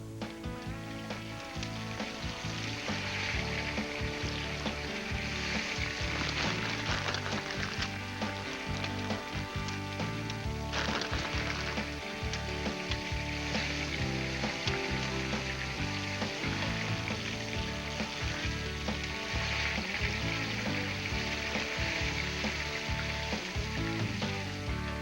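Silver dollar potatoes seasoned with Montreal steak spice fry over an open fire, with a loud, continuous close sizzle and a dense crackle that holds steady throughout.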